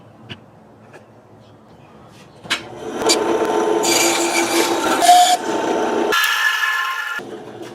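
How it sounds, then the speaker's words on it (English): Wooden propeller blades for a Halloween witch whirligig being sanded, starting with a few light taps before a steady, loud, close rasping scrub that runs for several seconds and then shifts in tone. "have to take and sand these up a little bit"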